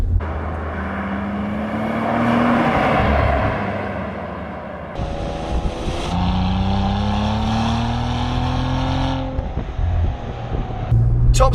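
A Cadillac ATS-V engine pulls steadily in second gear on a narrow, winding road, a loud continuous drone that rises in pitch, drops sharply at a lift-off around six seconds, then climbs again.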